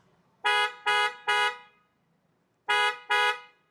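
A Tata Punch's horn chirps as the central locking is worked: three quick loud toots in a row, a pause, then two more, close and without talk.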